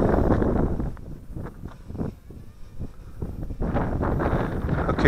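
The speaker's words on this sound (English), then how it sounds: "That's the wind." Wind gusting outdoors on a windy day around an Eachine CG022 quadcopter drone, loud buffeting microphone rush that eases midway and then surges back.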